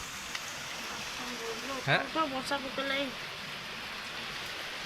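Steady, heavy rain hisses throughout, with a voice speaking briefly in the middle over the downpour.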